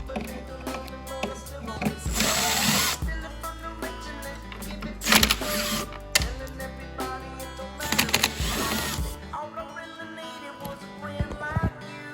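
A power drill with a T20 Torx bit backs screws out of a 2020 Arctic Cat Alpha ONE snowmobile seat, giving three close whirring bursts of about a second each, separated by handling clicks and rattles.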